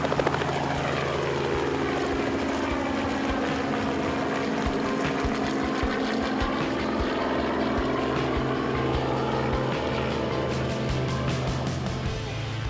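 A helicopter used for barramundi fishing trips in Cape York, North Queensland, drones steadily and loudly throughout, its rotor thumping continuously at close range with no speech.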